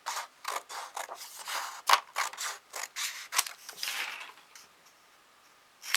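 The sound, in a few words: cutting small paper pieces with scissors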